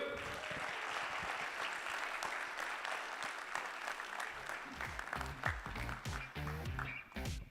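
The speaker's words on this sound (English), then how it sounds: "I think that calls for a lot of applause because his excitement was clearly seen." Loud, sustained audience applause fills a Canon product launch event, a dense wash of many hands clapping steadily throughout, with the texture growing choppier toward the end.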